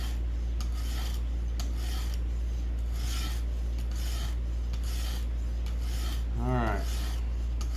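A knife is drawn over a Xarilk Gen 2 sharpener in repeated gritty rasping strokes at a steady rhythm over a constant low hum, with a brief spoken phrase near the end.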